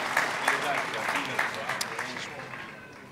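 Audience applause at an Italian long-service awards ceremony, a dense wash of clapping from a seated crowd, moderately loud and steady before slowly thinning out.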